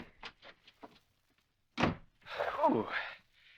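Door in an old radio drama opening with a sharp thunk and scraping creak after a burst of hurried footsteps, fairly close, followed by a softer rustle.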